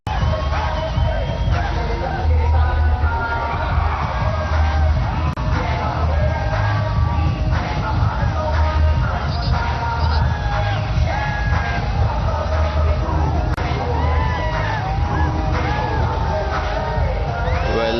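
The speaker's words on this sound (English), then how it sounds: "These girls have a lot to cheer about." Loud crowd at a Celebrity Cricket League T20 match between Telugu Warriors and Mumbai Heroes, with girls yelling, whooping and cheering continuously and close by, voices overlapping in a dense roar throughout.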